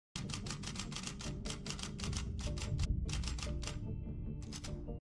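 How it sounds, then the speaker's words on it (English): Rapid typewriter keystrokes clatter in bursts from a TV drama scene, with short pauses between runs of typing and a soft background hum underneath. "A typewriter."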